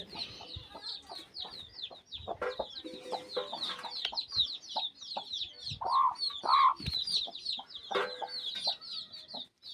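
Chickens clucking busily close by, with a few louder squawks and calls rising over the steady chatter of the flock.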